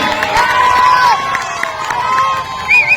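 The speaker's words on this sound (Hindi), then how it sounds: "उनका तालियों के साथ स्वागत करें" Crowd at an Indian National League political rally in Khamgaon welcomes a senior leader with a continuous wash of cheering, clapping and shrill whistles, loud and close.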